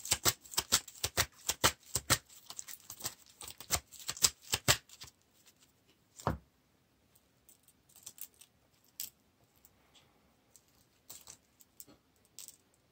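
Playing cards shuffled for a Lord of the Rings card game: a rapid riffle of crisp flutters for about five seconds, then a single sharp snap and scattered light card taps, close and clear with no talking.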